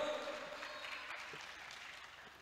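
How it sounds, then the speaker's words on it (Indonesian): An audience applauds award winners at a closing ceremony. The clapping is faint and distant, a soft continuous patter that slowly fades. "Boleh tepuk tangan yang sangat meriah untuk para pemenang Gus Durian Awards."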